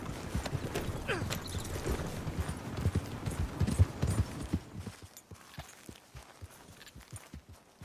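Horse hooves clip-clop steadily at a walking pace in the video game Red Dead Redemption 2, close at first, then growing sparser and quieter.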